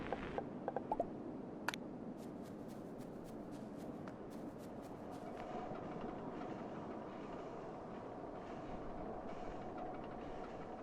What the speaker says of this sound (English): Oh, we've got the train on it.